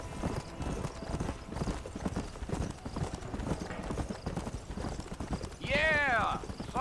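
In Red Dead Redemption, a horse gallops with a steady, rapid clip-clop of hooves, then neighs loudly near the end, and a voice speaks over the hoofbeats.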